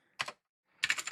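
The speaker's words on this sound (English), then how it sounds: "I change some of the settings and then I start typing." Keys clack on a wooden Falbatech Ergodox mechanical keyboard, a quick pair of close strokes followed after a pause by a faster run of several presses.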